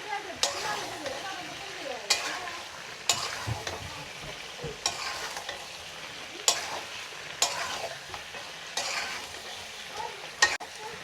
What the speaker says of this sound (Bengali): আমি এখন দিয়ে দেবো আলুগুলো দিয়ে কিছুক্ষণ কষিয়ে নেব।